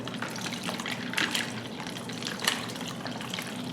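Liquid marinade with spices pours steadily into a bag, a continuous wet gurgling and splashing with no talking.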